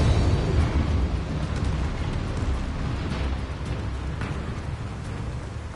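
A Confringo fire spell explodes in Hogwarts Legacy, a loud, sustained roaring blast with crackling rumble that slowly tapers over several seconds, no speech.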